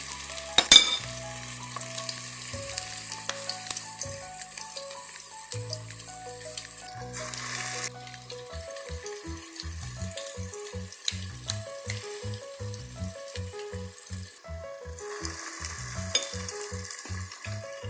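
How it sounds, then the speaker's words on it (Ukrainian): Steady sizzling of meatballs frying in a pan, a continuous crackle that runs throughout, with light background music playing. "Смажуються, поки вони смажаться, ми їх потім перевернемо."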